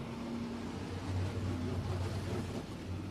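IMCA Modified race cars in a heat race at Barona Speedway in Lakeside, California, roar steadily around the dirt track, a continuous droning engine sound that rises and falls slightly as the pack passes.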